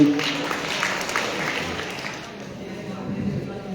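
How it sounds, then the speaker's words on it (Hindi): Audience applause at a school farewell ceremony for a retiring principal, a steady diffuse clapping wash that holds through the clip and eases slightly near the end. "एक जोरदार ताली"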